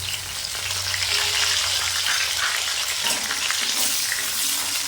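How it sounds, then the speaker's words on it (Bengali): Ginger paste sizzles in hot mustard oil already used for frying fish, with black cumin and green chillies in the pan; a steady, close frying hiss runs through without a break and nobody speaks. "আদা বাটা দিয়ে দিলাম।"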